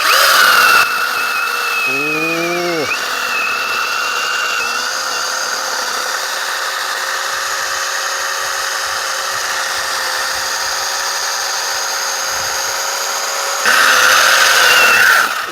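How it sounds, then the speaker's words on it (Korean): A light chainsaw revs loudly up close while cutting thick apple tree branches in an orchard, holding a sustained buzzing drone with a brief engine pitch sweep near the start and a louder burst at the end. "나리온에서 나온 체인톱으로 이렇게 나무를 지금 잘라봤습니다"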